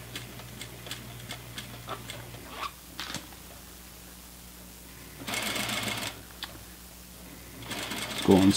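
A sewing machine stitches a seam on a pair of pants in short, slow bursts of quick mechanical ticking, separated by quiet gaps and a few handling clicks, close and fairly soft.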